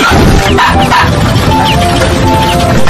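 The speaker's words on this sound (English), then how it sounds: "Seize the virtual dogs." Dogs bark and yip in a dense, overlapping chorus, loud and continuous throughout, presented as virtual dogs.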